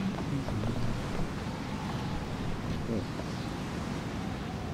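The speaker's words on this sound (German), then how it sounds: "Ganz schön windig und wackelig hier." Steady wind blowing in the video game BioShock Infinite, a continuous broadband rush with a low rumble and no gusting breaks, heard without speech.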